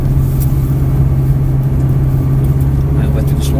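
A Ferrari 360 Modena F1 idles along slowly on a circuit at Mettet, its engine giving a steady low loud drone with a constant hum, while people talk over it.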